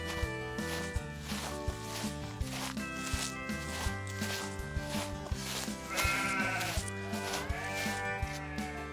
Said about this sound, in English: Today, the farmer has the sheep here while the cows and horses are in the fields.